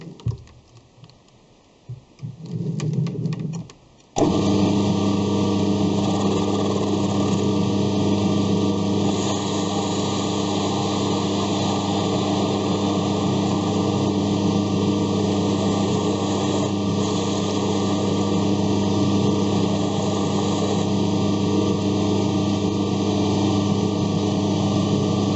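A lathe makes a facing cut on a small-diameter nozzle for a Lidl Parkside sandblaster, a steady, loud broadband machining hum with tonal whine that holds evenly for over twenty seconds after a brief quieter start.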